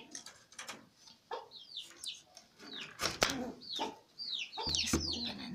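Poultry on a small farm with doves nearby: chickens clucking and calling in a busy, cluttered mix with wing flapping and cooing, moderately close, with no talk.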